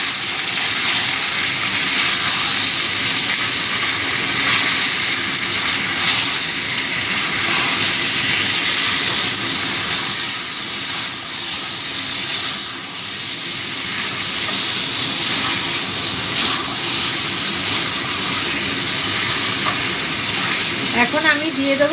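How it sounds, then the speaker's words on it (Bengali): Chhana (cottage cheese) frying in a pan, a loud, dense, continuous sizzle close up that holds steady throughout, with faint stirring near the end. "ছানাটা দিয়ে ভালো করে ভেজে নেব।"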